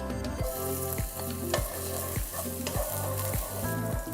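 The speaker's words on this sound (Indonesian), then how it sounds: "kita mulai memasukkan bumbu, yaitu bawang merah dan bawang putih" Shallots and garlic frying in hot oil, loud close sizzling with a regular rhythm of spatula strokes roughly twice per second.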